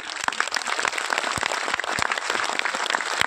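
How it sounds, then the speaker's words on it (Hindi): Loud, sustained applause from a large crowd at an outdoor festival gathering, a thick wash of clapping with a few sharper individual claps standing out, continuous throughout. "मैं चाहता हूं कि जोरदार ताली आप लोगों की तरफ होना चाहिए"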